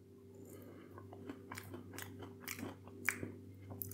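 Crunchy skin-on fries seasoned with rosemary being chewed up close, a steady run of soft crisp bites and mastication over a low background hum, with no talking.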